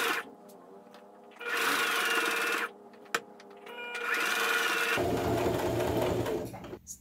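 Sewing machine stitching a summer dress, running in several bursts of rapid mechanical whirring separated by short pauses, close and fairly quiet, with a louder stretch near the end.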